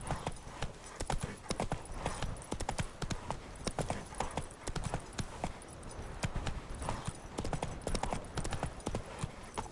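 Horse hooves clip-clopping at a brisk ridden gait in The Witcher 3 video game, a quick irregular run of close, crisp hoof strikes lasting the whole stretch, with faint background ambience.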